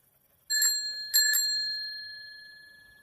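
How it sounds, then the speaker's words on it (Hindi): A bicycle bell rings on its own with a first ding, then two quick rings a moment later, bright and close, each tone fading out slowly in silence. "अचानक उसकी साइकिल की घंटी अपने आप बज उठी।"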